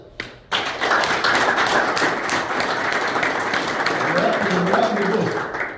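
A congregation at a Sunday school worship service breaks into loud, sustained applause right after a short pause, dense clapping that holds steady for several seconds before tapering off, with some voices mixed in.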